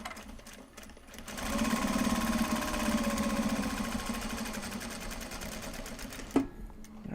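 Sewing machine stitching back and forth along the strap of a Japanese fabric bag, one sustained close, steady motor whir with fast needle rattle for about five seconds, ending in a sharp click.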